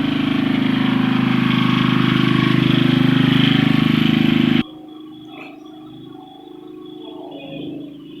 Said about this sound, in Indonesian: dipakai sementara yaitu mesin genset untuk ngetes jaringan wifi